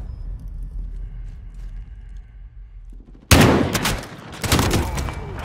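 Gunfire in Call of Duty: Modern Warfare erupts suddenly after a quiet, low rumbling stretch, with loud, rapid bursts of automatic shots continuing to the end.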